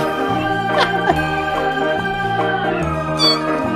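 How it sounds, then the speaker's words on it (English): Cartoon cats meowing at the cat farm in a Thomas & Friends episode, short high mews over steady, rhythmic background music, several cries scattered through the passage. "he basically delivers uh, this lost kitten to the cat farm"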